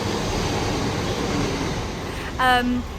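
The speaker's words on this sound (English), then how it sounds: "There's just a train going past." A train rolls past outdoors under a steady broadband rumble, with a brief louder swell near the end carrying a harmonic whistle or horn-like tone. A voice talks faintly underneath.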